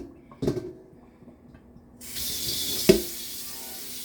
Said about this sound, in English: Let me just rinse the pan out.